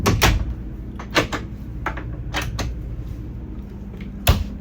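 Maple hardwood drawers in a 2026 Renegade Classic 45CBF RV slide and knock shut, a series of sharp close wooden thumps and clacks spaced irregularly, with no talking.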